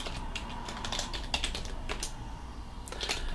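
A computer keyboard is tapped to enter a Linux terminal command, giving a short run of close, sharp keystrokes at an uneven pace over a soft steady hiss.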